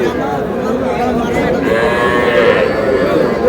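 Cattle, including young bulls and heifer calves, low amid a busy livestock market at Aftabganj, Bangladesh, with steady crowd chatter and voices running underneath throughout.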